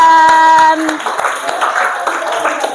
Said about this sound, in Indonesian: tepuk tangan buat Wildan